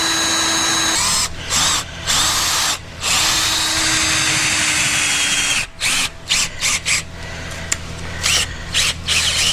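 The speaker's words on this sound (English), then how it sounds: "Alright, now I gotta drill 2 holes" A power drill bores holes in a shed workshop while bird feeder hangers are being made, running in loud sustained bursts with short pauses and stop-start triggering toward the end.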